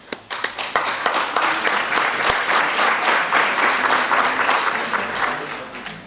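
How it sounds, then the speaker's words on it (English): Audience applause at an annual chamber of commerce awards banquet, starting with a few separate claps and swelling into steady, dense clapping from a full room that fills the whole stretch. "a huge round of applause for all of those who participated in committees this year."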